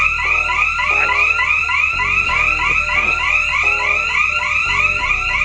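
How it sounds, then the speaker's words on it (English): Safe Touch home security alarm going off during a monthly test, a loud, continuous pulsing siren with repeating sweeping tones close by, indoors. "I have the alarm tripping."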